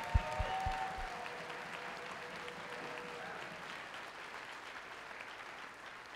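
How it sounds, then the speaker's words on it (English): Sustained applause from a large crowd at the opening ceremonies of a 2016 FIRST Robotics (FRC) district competition in Mount Vernon, steady dense clapping throughout with a few sharper low thumps near the start. "give the round of applause to your parent, coach, teacher, mentor"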